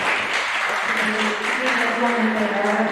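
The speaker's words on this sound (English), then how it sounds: "exhibitors another round of applause" Applause for youth exhibitors at a county fair dairy cattle and dairy goat show. Clapping runs steadily beneath a voice talking over it.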